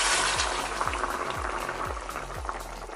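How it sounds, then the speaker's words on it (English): Hot water, four cups of it, being poured into a pot of braising oxtail for Jamaican rasta pasta, giving a steady bubbling, gushing liquid sound with a repeating low rumble throughout. "I'm gonna add in some hot water that I had boiling."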